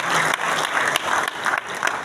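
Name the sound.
audience applause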